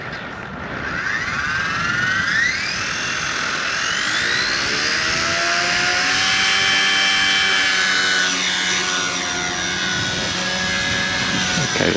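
A radio-controlled collective pitch helicopter flies nearby, its high turbine-like whine from the motor and rotors rising and falling in pitch as the throttle and blade pitch change, loud and steady throughout with no talking.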